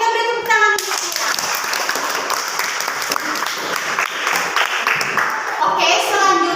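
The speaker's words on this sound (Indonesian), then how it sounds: "kita beri tepuk tangan untuk kita." An audience of classmates claps together at a school session, a dense, fairly loud round of applause with scattered voices mixed in and a brief voice at the start and end.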